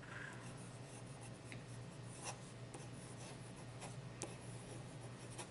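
A fountain pen fitted with a new nib writes across paper, giving a faint, steady scratching rasp with a few light taps, quiet and close with no voices.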